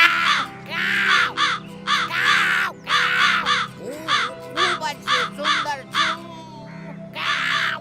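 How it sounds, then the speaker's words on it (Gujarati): Repeated harsh crow caws from a crow in a cartoon fairy tale about a clever fox, close and loud in bursts of several calls with short gaps, over a steady background music bed. "કાગડો પોતાના પગેથી રોટલીને દબાવીને બેસુરી અવાજમાં ગાયન ગાવા લાગ્યો"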